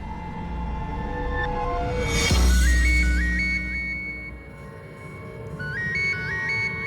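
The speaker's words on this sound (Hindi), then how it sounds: "मेरी वाइफ का फोन है।" A phone rings with an incoming call, its repeating melodic ringtone chiming in short rising figures that play over a low musical background, with a surge of noise partway through and the ringtone returning near the end.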